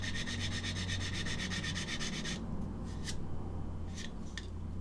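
Sandpaper rubbing away sink marks on a plastic scale model kit part, a steady rapid back-and-forth scratching for about two seconds, then a few short isolated scrapes, close up with no talk.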